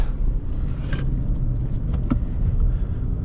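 A 2011 Infiniti FX35 cornering on a test drive, heard from inside the cabin as a loud, steady low road and engine rumble with faint rattles and no talking.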